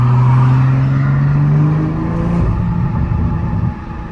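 A 2021 Toyota GR Supra with a catless downpipe, its exhaust droning loud and close, the note falling off as revs drop before settling into a rumbling idle with light crackling burble.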